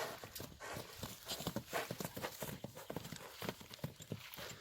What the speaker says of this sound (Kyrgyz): Мына аттын ана кой бергенде кетет экен.